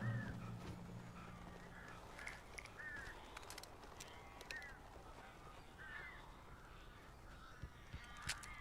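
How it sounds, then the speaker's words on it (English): Crows in the Alan Wake Remastered video game caw repeatedly in short, spaced calls, some near and some farther off, over a quiet, low ambient background with no talking. "A couple of them got in here before I blocked the chimney. This isn't normal. These birds are weird."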